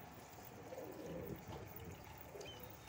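Soft, low cooing from newly added high-flying pigeons at a loft in Korangi, murmuring faintly and steadily against a quiet background with a faint trickle-like hiss.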